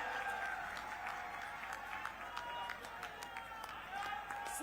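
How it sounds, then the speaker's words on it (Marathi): An audience at a large political youth convention applauds to welcome arriving guests, producing a steady wash of crowd clapping with a faint background voice and a loud, tonal hum from the venue's sound system underneath. "जोरात टाळ्या वाजवून स्वागत करावं।"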